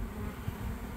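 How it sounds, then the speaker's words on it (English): A honeybee swarm flies close by, its steady droning hum filling the moment without pause. "So all these bees are from the swarm"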